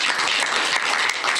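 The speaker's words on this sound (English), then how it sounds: "So let's give them a little round of applause." A crowd gives a brief round of applause for a school nutrition department, dense clapping filling the short moment without speech.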